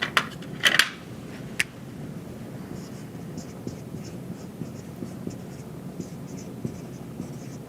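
Handwriting: a few sharp taps at the start, then soft, steady scratching strokes that stay faint and close.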